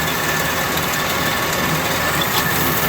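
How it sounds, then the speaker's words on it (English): A chip conveyor runs on an Amada HA-400W bandsaw, giving a steady, even mechanical whir and hum with no breaks and no talking. "Got the chip conveyor going round and round."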